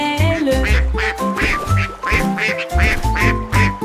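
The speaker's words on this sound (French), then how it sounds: "Tous les canards cancanaient et battaient des ailes." A lively children's nursery rhyme song plays with music and rhythmic duck-like quacking calls repeating in a steady beat throughout, loud and close, blended with the melody rather than heard alone.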